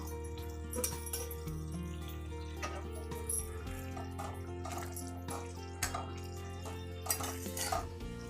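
Elephant yam and chopped white onion stirred in a pan: scattered utensil scrapes and clinks against the metal run steadily under a continuous steady hum, with a few sharper knocks near the end.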